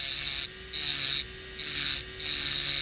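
Grinding a flat spot onto a long shaft latch bur, a steady high-pitched buzzing whine with a low hum underneath, pulsing in and out in four close bursts as the tool touches and lifts off the metal.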